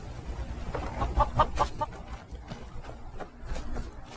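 Chickens in the video game Skyrim with a creature overhaul mod, giving a short run of clucks in the middle over a low steady background hum, with fainter clucks later.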